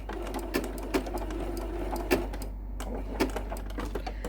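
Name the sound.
sewing machine stitching raw edge applique around a curve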